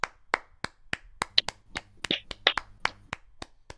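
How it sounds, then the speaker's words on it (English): Applause after a panel at a fan convention: a small, sparse group of hand claps, crisp and fairly near, in an irregular rhythm of about a dozen distinct claps over a few seconds, with no talk. "Let's give him a round of applause."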